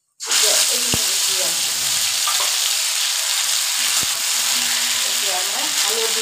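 A paste of ground mustard seed and ginger hits hot oil in a pan and bursts into a loud, steady sizzle that continues without a break, with a couple of faint clinks.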